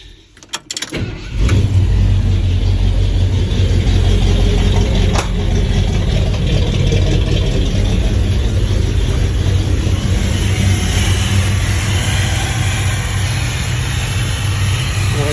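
A 1977 Ford F100 pickup engine with a leaking intake gasket cranks and catches, then settles into a steady, loud, rumbling idle that continues without change, heard up close.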